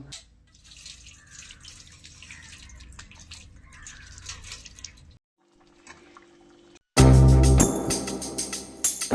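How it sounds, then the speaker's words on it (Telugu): Water runs from a tap into a container at home, a soft steady splashing that breaks off briefly and then returns as a loud, full gush of pouring water. "వాటర్ అయితే పడుతున్నాను"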